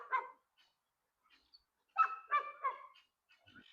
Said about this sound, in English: Now, those you hear there, those are called guineas.